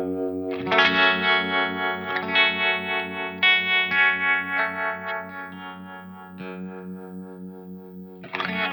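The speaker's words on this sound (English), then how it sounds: "I enjoy some harmonic trem from time to time" Electric guitar through a slow harmonic tremolo pedal on a 2024 pedalboard: sustained, chord-like tones pulse gently and steadily, moderately loud and alone, before a fresh strum at the end.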